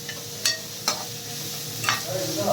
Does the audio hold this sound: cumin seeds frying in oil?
yes